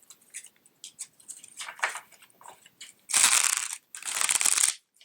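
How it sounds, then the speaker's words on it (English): A tarot card deck is handled with scattered light riffles and flicks, then two loud close bursts of cards being shuffled, each lasting about a second. "That was the worst shuffle ever."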